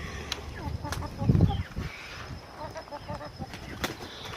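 Chickens in a backyard coop on a morning chore round, with soft clucks and a burst of wing flapping partway through, all fairly close and moderately loud over light background noise.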